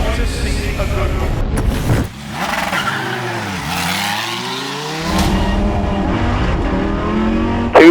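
Lamborghini Super Trofeo race cars at the Watkins Glen circuit, engines roaring loudly and close, with a sweeping pass and shifting pitch midway as cars rush by, backed by continuous track noise.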